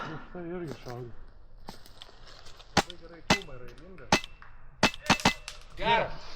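Sharp snapping airsoft shots, several irregular cracks in quick succession, with brief talk and movement sounds around them.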